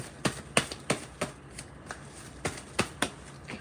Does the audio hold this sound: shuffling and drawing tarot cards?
yes